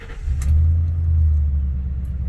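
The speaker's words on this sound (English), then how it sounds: "now let's go ahead and see if we start this truck up" A 2006 Ford F250 pickup's engine turns over and settles into a steady, loud low idle rumble close by, with a brief clatter right at the start.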